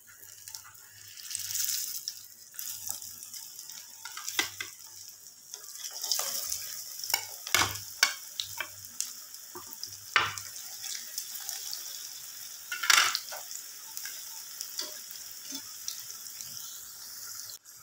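Chana dal tikki patties fry in a pan with a soft, steady sizzle, broken by irregular clinks and scrapes of a utensil against the pan, and no voices.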